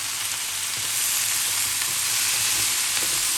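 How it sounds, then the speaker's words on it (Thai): Shallots stir-frying in a hot pan for Japanese curry, a loud, steady close-up sizzle with light scraping of the spatula. "แล้วก็จะผัดได้ประมาณนี้นะคะ หอมก็ใสแล้วนะ"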